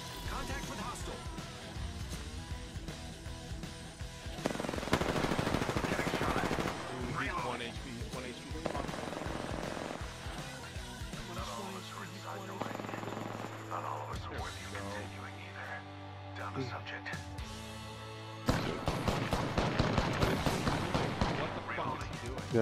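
Gunfire in Apex Legends, with repeated shots and bursts spread across a busy firefight, sitting under ongoing talk and other game sounds.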